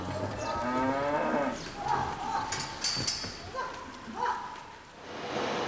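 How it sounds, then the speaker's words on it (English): Cattle lowing on a rotary milking carousel at a dairy farm, several moos rising at intervals over a steady background clatter of the milking parlour. "Just a bunch of cows on a carousel."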